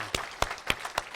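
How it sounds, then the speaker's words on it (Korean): Applause from a church congregation at an Easter Sunday service, heard here as four separate loud claps or short bursts spaced evenly apart, with faint room ambience between them. "찬양의 대상 우리 하나님께 영광의 박수 한번 크게 올려드리겠습니다"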